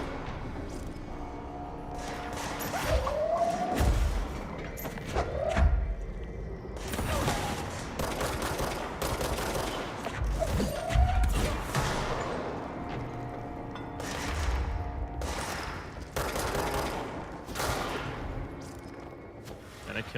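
Repeated gunfire bursts and heavy impacts from the Indiana Jones video game, loud and dense over a busy game soundscape with music, under a voice.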